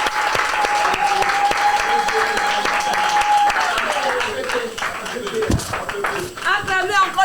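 A church congregation at a Bible game show applauds loudly and steadily for the Lord, with clapping filling the room for several seconds while a voice talks over it.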